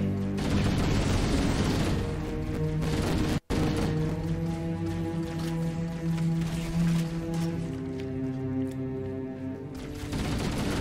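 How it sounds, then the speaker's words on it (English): Halo: Combat Evolved gunfight with a grenade blast, dense continuous gunfire and booming impacts layered loud and close, briefly cut out before resuming. "Be careful, I just shot a grenade."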